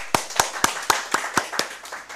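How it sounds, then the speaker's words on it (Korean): A church congregation at a Sunday worship service claps in unison, about nine sharp, evenly spaced claps in a steady rhythm, fairly close and clear, with no talking over them. "하나님께 박수."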